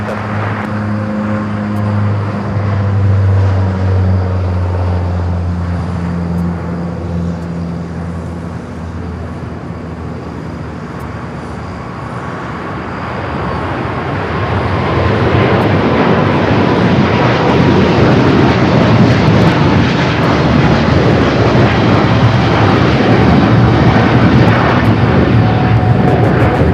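Jet aircraft at LAX rumble steadily on the taxiway, then the engine roar swells broad and loud into a sustained departure thunder that fills the last half.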